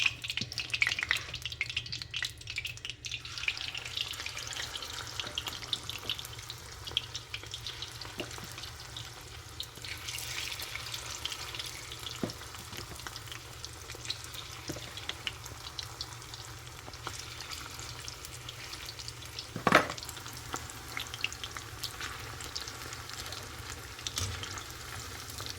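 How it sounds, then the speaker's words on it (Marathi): Soya chunks deep frying in hot oil give a continuous, moderate sizzle with occasional stirring clinks and scrapes, one sharper knock near the end, and no talking. "आता सगळे या पद्धतीने मी तळून घेणार आहे."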